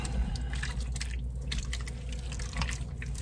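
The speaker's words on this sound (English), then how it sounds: "I've added in some beef broth, not much, just a little bit. I had a little bit left in a container, and I'm letting this kind of deglaze the bottom just a touch." Small splash of beef broth deglazing the bottom of a hot stew pot for a keto beef stew made from leftover roast, giving a steady soft sizzle with scattered drips and liquid bubbling throughout.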